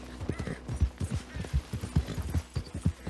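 Horse hooves clip-clopping in a steady, brisk rhythm in Red Dead Redemption 2, close and clear, with a brief whinny-like snort mixed in and no talking over it.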